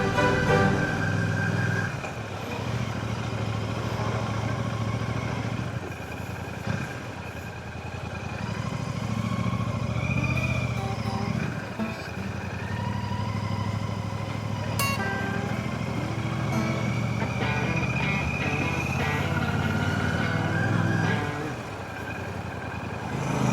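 A Royal Enfield Classic 650 motorcycle rides through Chiswick streets in West London, its engine humming steadily with shifts in pitch as it speeds up and slows, close and continuous under wind noise.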